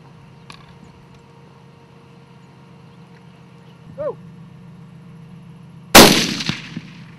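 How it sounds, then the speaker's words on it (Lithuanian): A single loud rifle shot cracks out near the end during an impala hunt, its sharp report trailing into a reverberating echo after several seconds of quiet outdoor ambience. "Medžiotojas prisitaikė ir nuaidėjo šūvis"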